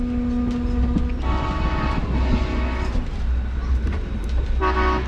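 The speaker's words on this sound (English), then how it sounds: "We got an Amtrak train coming through." An Amtrak train passes on tracks beside a heritage railroad at Strasburg, sounding a loud horn over a continuous close rumble and clatter of wheels that swells and fades across the whole span.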